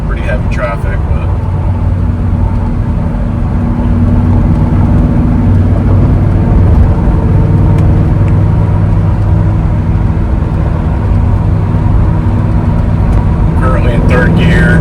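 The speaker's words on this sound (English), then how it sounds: "Get on the highway here real quick, there's pretty heavy traffic" A truck driving on a highway in heavy traffic gives a steady close engine drone and road rumble throughout, with engine tones rising slightly partway through and a voice talking over it.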